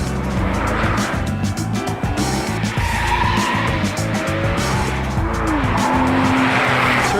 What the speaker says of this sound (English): Get on the gas, the PSM's turned off, so we've got a bit of oversteer